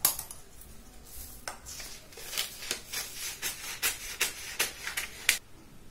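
Scissors snip through a paper blouse pattern along a rounded cup-shaped curve, giving a run of crisp, close paper cuts and rustles in an irregular rhythm, with no talking.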